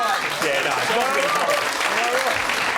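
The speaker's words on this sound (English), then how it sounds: "that's the first time a response has got a round of applause" Studio audience on a comedy panel show breaks into a loud, sustained round of applause with scattered cheers, filling the short moment from start to finish.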